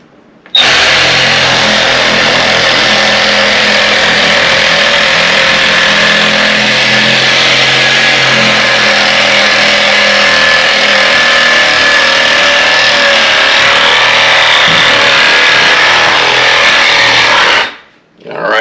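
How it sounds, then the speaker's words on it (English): Hacksaw cutting through a farm-raised hog carcass, a loud, steady rasping that runs almost unbroken for about seventeen seconds before stopping abruptly. "And it's hacksaw time."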